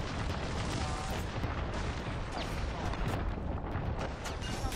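Gunfire in a shooting video game during a custom lobby match, dense and continuous with heavy booming bursts throughout, and no clear talk over it.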